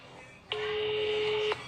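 A single steady electronic ringback tone plays for about a second while a call is placed to the police in a Minecraft setting, alone over faint background hiss.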